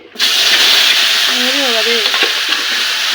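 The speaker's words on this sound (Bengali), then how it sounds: "এই যে বেম মাছ দিয়ে আলু দিয়ে রান্না করতেছি" Fish and potatoes frying in a pan over a clay stove, a steady loud sizzle with faint stirring scrapes, while a voice talks briefly over it.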